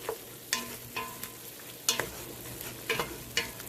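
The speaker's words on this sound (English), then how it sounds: "Give it a good stir." Chicken tortilla soup deglazed with tequila is stirred in a pan, producing a series of quick, rhythmic scraping strokes roughly every half second over a low simmering sizzle. The sound is fairly quiet and close, with no speech.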